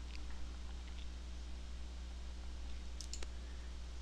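A couple of quick, faint mouse clicks come near the end over a steady electrical hum while a software debugger is stepped through; there is no talking.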